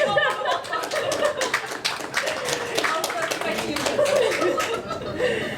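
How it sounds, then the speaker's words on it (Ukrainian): Audience applause at a live talk show, a steady wash of clapping mixed with scattered chuckles and laughter, with a voice talking over it throughout. "аплодисменти, дівчата."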